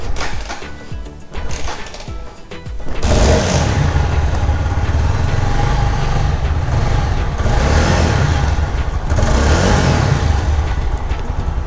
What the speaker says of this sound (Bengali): আগে বাইকটাকে স্টার্ট দিই